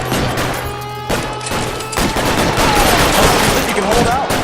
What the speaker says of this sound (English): Lay down some cover and fire.